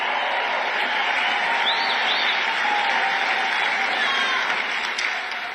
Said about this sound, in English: Uh-oh, is this cheer a little too loud?